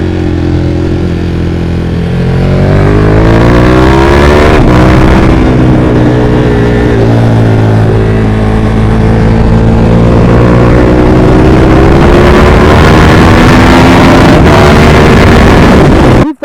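A 2017 KTM Super Duke 1290 R motorcycle engine revs loudly and close, pitch climbing steadily through the gears with wind rush over the microphone, then cutting off abruptly at the end.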